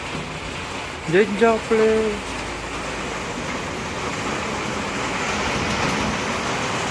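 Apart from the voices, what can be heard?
heavy rain at night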